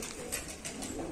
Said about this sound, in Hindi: हाई फ्लायर कबूतर है,